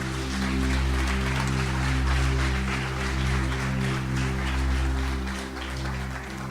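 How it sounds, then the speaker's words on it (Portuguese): A church congregation claps together in sustained, dense applause that swells and holds for several seconds over a steady low hum, with no speech. "dê uma salva de palmas no Senhor"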